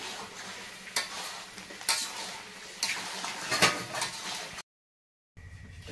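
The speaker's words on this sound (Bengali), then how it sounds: "এবারে আলুটা একটু দেবো, শেষে হালকা করে একটু নেড়ে চেড়ে মিশিয়ে দিই।" Potatoes being stirred into chicken biryani in a pot, giving repeated scraping and clinking of a utensil against metal at an uneven pace, fairly close, followed by a short silence and then quieter handling.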